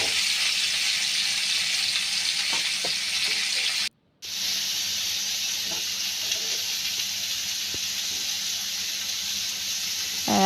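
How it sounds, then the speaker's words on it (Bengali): Food frying in hot oil over a low flame gives a steady hiss with occasional faint pops, broken by a brief silence partway through. "এখন এগুলোকে গরম তেলে ছেড়ে দিচ্ছি। ভালোভাবে হালকা আঁচে নেড়ে চেড়ে ভেজে নিতে হবে।"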